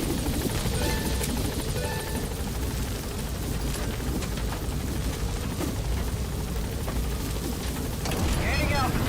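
Helicopter in Metal Gear Solid V: The Phantom Pain lifting off and climbing, a steady loud rotor and engine roar filling the scene alongside game music and effects.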